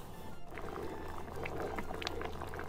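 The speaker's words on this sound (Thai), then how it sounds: "พอน้ำเดือดแล้วนะคะเราก็ใส่ข้าวเหนียวลงไปค่ะ" Sticky rice and pandan leaves boil in a pot of water, giving a soft, constant bubbling with small pops and gurgles. The sound is fairly quiet and close up, with nobody talking.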